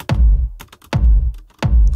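Kick drum sample struck three times with reverberated percussion layered on top, each hit a deep booming thump followed by short clicky, airy percussive taps and a brief tail.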